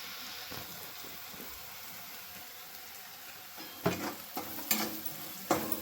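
Onion and turmeric fry in a pan for poha, giving a soft continuous sizzle, with a few louder scraping stirs and clatters toward the end and no speech.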